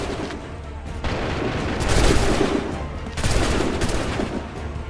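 A musket volley fires in an Assassin's Creed 3 cutscene, a dense crackling burst of massed gunfire that swells and fades in two loud waves with no speech.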